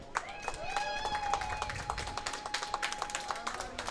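Crowd applause for the winners of a doubles bowling match, with scattered claps and cheering under a voice, a room of about five dozen spectators clapping steadily and close.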